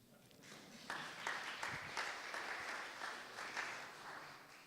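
Applause from an award-ceremony audience rises sharply after a quiet start, then continues as a steady dense patter of many hands, fairly distant, with no voices over it.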